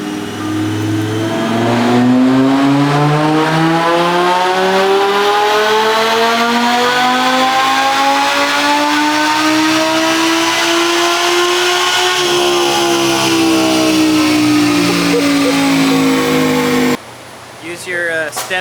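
A supercharged Lamborghini at full throttle climbs in a loud, rising engine wail with a whining supercharger for a long sustained pull, heard up close from inside the car, then cuts off abruptly near the end.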